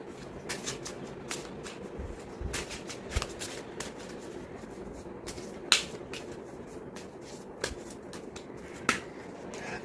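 Tarot cards shuffled by hand, heard as a steady close riffling and shuffling texture broken by a few sharper snaps and taps over about ten seconds, with no talk.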